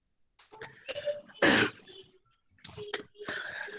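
A man coughs and clears his throat a few times during a classroom lecture on the Indian Penal Code, with one loud, harsh burst standing out among shorter throaty sounds, close and fairly clear.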